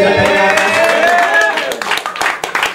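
A comedy show audience breaks into applause, scattered claps rising and crackling after a stretch of speech, lively and close.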